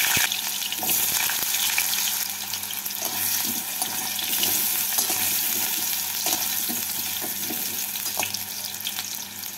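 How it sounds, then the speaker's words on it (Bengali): Potatoes frying in hot mustard oil in a wok, a steady dense sizzle running throughout with occasional stirring scrapes, close and fairly loud. "তেলটাকে ভালো করে গরম করে নিয়ে এর মধ্যে প্রথমে আলুগুলোকে ভেজে তুলে নেব।"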